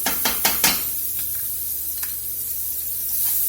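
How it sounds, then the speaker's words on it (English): Diced onions drop into butter in a hot pan for steak au poivre, starting with a few quick clattering hits and then settling into a soft, steady sizzle with faint scrapes. No one speaks. "Let those onions caramelize and get a little sweet."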